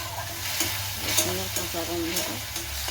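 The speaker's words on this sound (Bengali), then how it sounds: "আদা বাটা, রসুন বাটা, কাঁচা লঙ্কা বাটা অ্যাড করলাম। তারপর একটু কষিয়ে নিতে হবে।" Ginger, garlic and green chilli paste stir-fries with spices in oil, making a close, steady sizzle with intermittent stirring scrapes and clicks.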